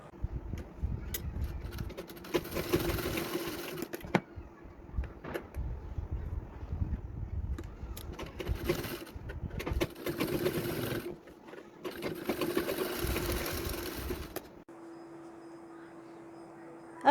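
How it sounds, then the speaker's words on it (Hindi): A sewing machine stitches a folded fabric strip onto saree pleats in several runs of fast, even motor-driven whirring, separated by brief pauses and small handling clicks, close and clear. "एक सिलाई लगा लेनी है"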